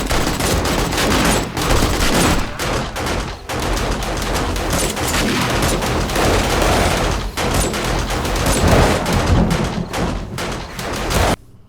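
Continuous rapid gunfire in the video game 7 Days to Die rattles almost without pause, dense bursts layered over one another with occasional brief gaps, loud and close.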